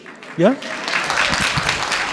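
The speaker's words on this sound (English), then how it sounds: "Yeah, you can applaud." An audience at a research talk breaks into applause, a spread of clapping that builds after a brief spoken word and carries on steadily for a couple of seconds.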